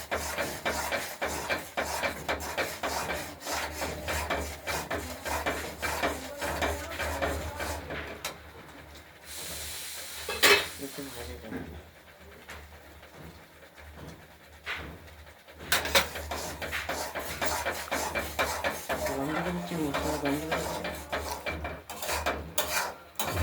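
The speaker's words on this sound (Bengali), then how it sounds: "সব সময় নাড়তে হবে, নাহলে কড়াইতে লেগে যাবে।" Green pea kachori filling, mashed peas with spices, stirred and scraped steadily in a kadai, a continuous rasping rub that keeps going with brief pauses, close and fairly loud.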